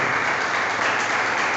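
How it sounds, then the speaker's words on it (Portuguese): Church congregation applauding for Jesus during a worship service, a steady dense wash of many hands clapping at once, loud and continuous throughout with no voices rising above it. "Uma salva de palmas para Jesus."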